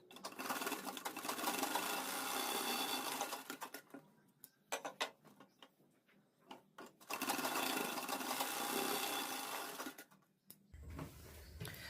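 A sewing machine stitches the shoulder seam of a dress in two loud, fast bursts of rapid clattering whir, separated by a stretch of quieter handling clicks and taps.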